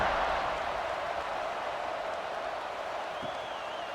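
Football stadium crowd at a kickoff in the final seconds of an AAFL 2012 game, New Jersey Knights at Hartford Colonials: a steady, broad roar and cheer that holds throughout, distant and washy, with no break and a faint tone near the end.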